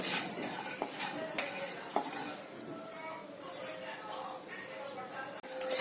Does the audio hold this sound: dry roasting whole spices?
yes